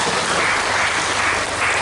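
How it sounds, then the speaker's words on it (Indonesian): An audience at an Indonesian community event for small-business training claps loudly and continuously, a thick, close wall of applause with no voices over it. "Tepuk tangan dulu untuk"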